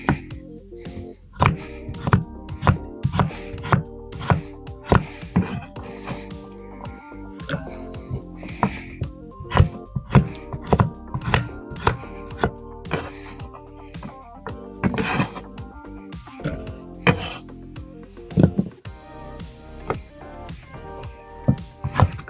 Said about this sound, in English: Using the crinkle cutter to cut the carrots.